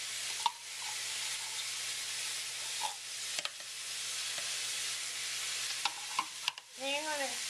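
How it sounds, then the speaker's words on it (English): Lasagna meat sauce sizzles steadily as it fries in a pan, with intermittent scrapes and clinks of a spoon stirring through it, close and continuous with no talking. "Then you're going to continue stirring over here."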